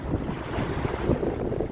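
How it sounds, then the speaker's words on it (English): Choppy, confused sea and steady wind around a small 14'6 gaff-rigged sailboat off Greece, near a reef: a constant wash of water and wind buffeting the microphone, with no voices. "Bit of a confused sea here"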